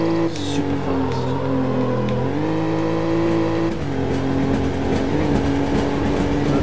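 A Ferrari engine roars in the racing game Need For Speed 4: High Stakes, a loud sustained drone that shifts pitch as it revs through gear changes, with no pauses.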